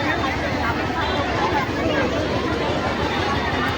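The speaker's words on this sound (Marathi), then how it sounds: "हे बघा गर्दी" A dense crowd mills around Panchavati temple in Nashik on Makar Sankranti, a steady close babble of many voices with no pauses.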